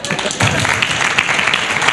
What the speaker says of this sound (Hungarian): Azt hiszem a legnagyobb tapsot ezért kaptam.